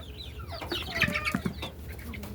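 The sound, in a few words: desi chickens clucking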